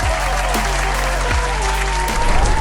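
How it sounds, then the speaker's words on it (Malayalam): Steady applause and clapping from an audience welcoming guests on a stage, continuous and fairly loud over a low sustained hum and music-like tones, with no speech rising above it. "ഇവർക്കെല്ലാവർക്കും ഒരു വലിയ കൈയടി പ്ലീസ്"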